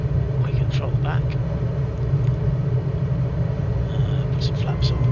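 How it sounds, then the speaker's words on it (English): Steady low engine drone of a light aircraft in flight, heard from inside the cabin near a coastal airport, a constant rumble with a voice talking over it throughout. "Slow the aircraft down. And drop in for a landing."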